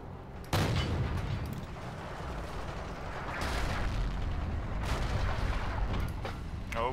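Heavy battlefield gunfire and booming blasts from Forgotten Hope 2 multiplayer, several loud bursts and rumbling explosions rolling over a constant din of combat.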